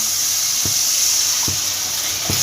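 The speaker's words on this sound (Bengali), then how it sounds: "এবার আমি জল দিয়ে দেব" Water poured into a pan of Bengali catla fish curry over cooked spices, a steady hiss of liquid running throughout with a few soft knocks, no voices.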